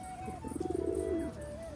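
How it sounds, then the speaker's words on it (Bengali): A pigeon gives a soft, throaty coo, a short rolling burst of low pulses, close by against a faint steady background hum. "পায়রাটার ডাকটা ভালো"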